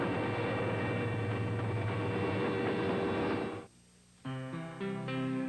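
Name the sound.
train passing at a railroad crossing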